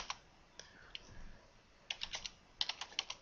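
Keys click on a computer keyboard as a default Motorola password is entered to log in to an access point. Quiet, close taps come in short irregular bursts with pauses between.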